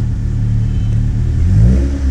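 A 1995 Honda Civic with a 1.5-litre engine gives a steady, loud, low exhaust growl at idle, then revs up and rises in pitch near the end.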